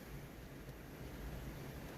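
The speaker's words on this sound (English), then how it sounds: "It is getting windy." Wind gusts steadily in the Adelaide Hills ahead of an approaching storm, a continuous low rushing roar with no voices.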